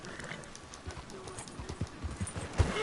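Horse hooves clip-clopping in Red Dead Redemption 2, a quiet irregular series of soft thuds at walking pace, fairly faint and close, with a brief louder knock near the end.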